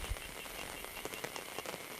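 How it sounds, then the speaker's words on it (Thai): Heavy rain hisses in a dense, even wash during a night fishing trip, with scattered patters of drops striking nearby surfaces, steady and moderately loud with no voices. "ฝนก็ตกแรงเลย"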